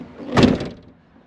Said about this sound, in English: Door shuts.